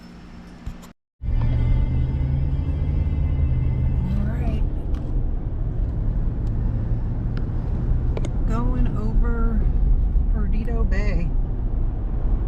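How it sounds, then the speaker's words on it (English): Strong storm wind gusts over a bay at Pensacola, Florida, during severe weather make a loud, steady, roaring rush that fills the whole clip, with someone talking over it. "Pretty hefty wind gusts right now."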